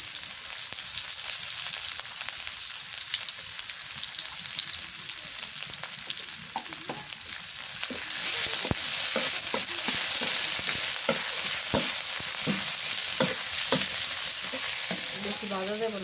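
Chopped onion, dried red chili and whole cumin seeds fry in hot oil in a village kitchen. The sizzle is loud and continuous, close by, and swells partway through, with a run of scraping stir strokes toward the end.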